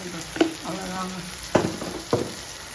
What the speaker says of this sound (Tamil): இந்த மசால் வந்து எண்ணெயில் வேகட்டும், பச்சை வாசனை போகணும்